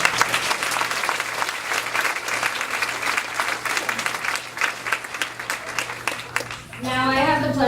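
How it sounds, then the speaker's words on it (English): An audience at a school honor society induction ceremony breaks into sustained applause, dense clapping filling the room for several seconds before a voice begins speaking as it fades. "I think that deserves a round of applause."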